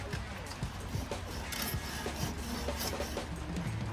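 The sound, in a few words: hacksaw cutting metal by hand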